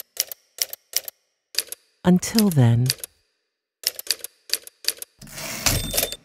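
Typewriter keys strike in sharp, rhythmic clusters of clacks, close and fairly loud, interrupted by a brief spoken phrase and ending with a rougher mechanical rasp like a carriage return.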